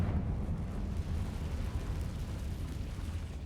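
Confringo spell explosion in Hogwarts Legacy, a dull rumbling blast that lingers as a low, sustained roar without any talk.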